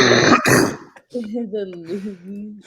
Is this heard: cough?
yes